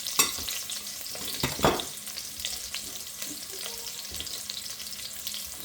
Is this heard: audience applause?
no